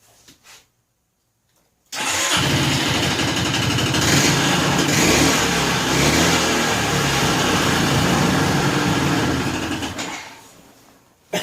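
A 2002 Honda Reflex scooter engine starts after a brief quiet moment and runs loudly and steadily near the listener for about eight seconds before cutting off.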